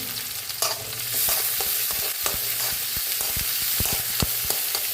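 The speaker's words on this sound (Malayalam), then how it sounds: "ഇതും ഇഞ്ചിയും ഉള്ളിയും കൂടി നന്നായിരുന്നു ബാധട്ടെ നമുക്ക് ഇളക്കി കൊടുക്കാം" Ginger and onions fry in a hot pan, with a steady, close sizzle throughout. Repeated scraping stir strokes mark a loose rhythm, and no one speaks.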